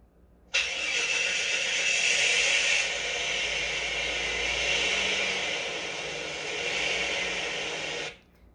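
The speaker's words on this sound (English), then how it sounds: "It was a car starting." A car engine cranks and catches, then runs with a steady broadband roar for several seconds before cutting off abruptly.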